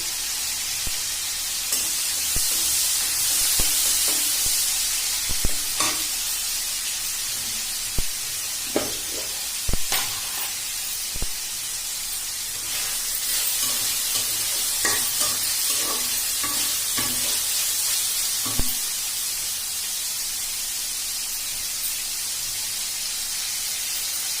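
Rui fish curry with pointed gourd and potatoes fries in a pan, a steady sizzling hiss broken by frequent scraping and knocking of a spoon stirring, loud and close.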